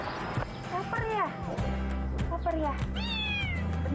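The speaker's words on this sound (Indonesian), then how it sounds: "Anak kucing lagi lapar." A hungry kitten meows repeatedly in short rising-falling cries, close and clear, with a low steady hum underneath.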